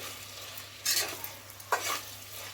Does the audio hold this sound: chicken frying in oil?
yes